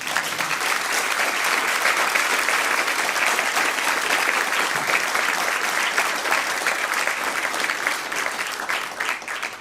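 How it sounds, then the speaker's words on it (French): An audience applauds after being invited to clap for guests at a French-language public discussion on digital counter-revolution; dense, steady clapping fills the whole stretch at even loudness, fading slightly at the very end. "Vous pouvez les applaudir."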